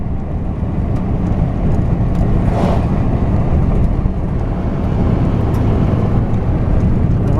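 Car cruising up a quiet valley road on a ranch at morning, a steady loud broadband engine and road rumble from inside the vehicle, continuous and unbroken, no talk.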